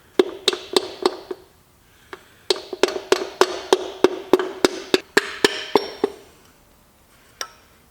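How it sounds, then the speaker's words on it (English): Piston being tapped into a Porsche M96 3.8L turbo Cayman engine block with the bottom of a hammer, a steady run of sharp close knocks, about two or three per second, with a short pause and a final lone tap. "I don't have one of those, so as always I'm using the bottom of a hammer."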